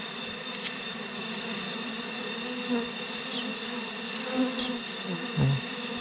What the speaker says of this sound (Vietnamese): Rất là nhiều con ong mà